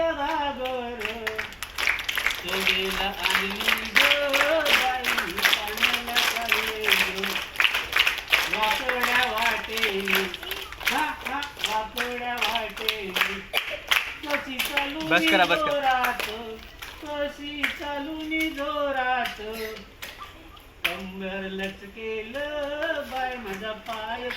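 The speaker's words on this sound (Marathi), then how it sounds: "टाळ्या वाजवा" Children clap in rhythm to a Marathi children's song at a village school, steady rapid claps under group singing throughout.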